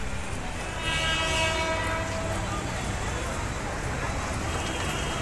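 At Borivali station a train, the Avantika Express on the Mumbai to Ujjain route, sounds a long horn blast over the steady rumble and clatter of rolling rail cars, close and loud, with voices murmuring faintly.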